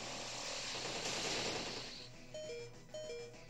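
Bug Buzz move effect from Pokémon Ultra Sun, a loud, dense electronic buzzing wash that fades after about two seconds, followed by a few short tonal game bleeps.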